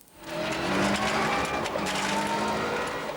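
Colin McRae's rally car pulls away in first gear on a twisting country lane, its engine revving loud and close in one continuous rising drone.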